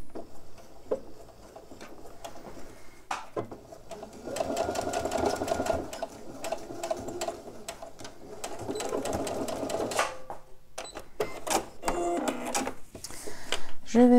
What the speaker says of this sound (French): Faire une petite couture tout de suite.